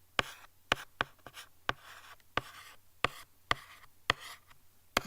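A pen writes on paper in a run of separate strokes, each a short sharp scratch followed by a softer drag, repeating steadily and close, with no voice over them and a faint low hum underneath.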